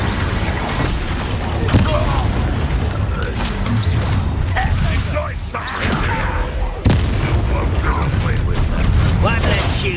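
An Incendio fire spell cast in the Hogwarts Legacy video game bursts out amid a dense, continuous battle din of booms and crashes, with voices calling out spells over it.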